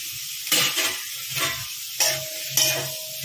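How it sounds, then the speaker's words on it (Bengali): Chopped capsicum and tomato fry in a pan for white sauce pasta, a soft close sizzle punctuated by four sharp scraping stirs of a spatula, with no talking. "এবার এগুলোকে ভালোভাবে কিছুক্ষণ ভেজে নিতে হবে"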